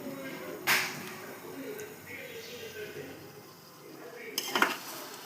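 A masala brinjal curry is stirred lightly in a pan, with two sharp utensil clinks against the pan over a soft background, one early and a cluster near the end.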